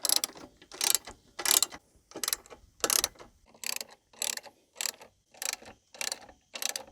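A ratchet tightens crash bar bolts on a KTM 690 Enduro or Husqvarna 701 motorcycle, making close, crisp bursts of rapid clicking, about a dozen evenly spaced strokes with short pauses between them.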